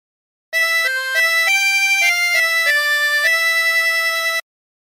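A harmonica plays a short melodic phrase from a song, a run of sustained single notes that step up and down for about four seconds, clear and close with no talk.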